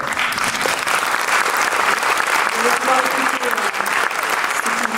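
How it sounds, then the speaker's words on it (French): Dense, steady applause from an audience at a presentation of a Ukrainian youth music group in Sartrouville, continuing loudly for the whole stretch with a few faint voices underneath. "je pense que vous pourrez les applaudir"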